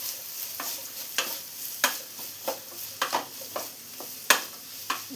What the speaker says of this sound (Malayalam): ഇതെല്ലാം നന്നായി തന്നെ ഒന്ന് വഴറ്റിയെടുക്കാം.